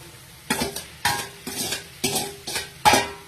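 Six scraping stirs of a spatula tossing fried corn in a pan, roughly every half second, with a faint sizzle underneath; no voices.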